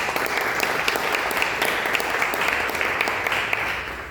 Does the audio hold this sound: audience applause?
yes